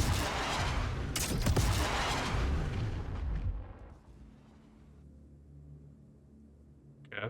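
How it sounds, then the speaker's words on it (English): Custom missiles on a snub ship launch from tubes in Star Citizen, a loud dense burst of roaring blasts for about three seconds that fades into a low rumbling hum, then a short burst at the very end. "It does look like we have a bigger missile firing system."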